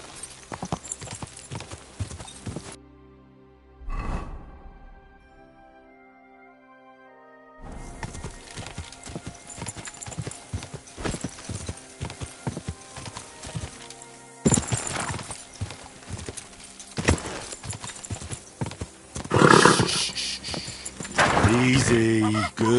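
Horse hooves clip-clop and thud in Kingdom Come Deliverance 2, breaking into rhythmic galloping beats after a quiet pause, with a brief whinny, chirping birds and a voice speaking over parts.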